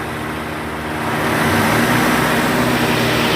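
Car engine during an alternator and charging-regulator test, rising from a steady idle to a louder, higher-revving drone after about a second and holding there, close and continuous with no talk.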